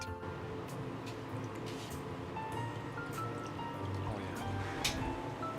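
Liquid trickling and dripping steadily into a PC water cooling loop reservoir, a soft continuous filling sound close by with no talking.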